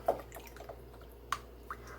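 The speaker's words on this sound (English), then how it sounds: "I'm adding it to a cup of water." Better Than Bouillon chicken base dropping into a cup of warm water gives a few faint, soft drips and small liquid plops spaced apart in a quiet kitchen.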